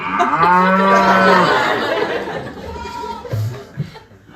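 People imitate a cow mooing with a loud, drawn-out low call, then laughter and chuckling follow and the voices trail off into quieter murmuring.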